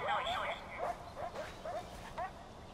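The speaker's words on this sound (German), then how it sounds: "Da hat es Hunde." Dogs bark and yip in the video game Far Cry 4, several short barks spread across the clip under a constant game soundscape, moderately loud, with people talking over it.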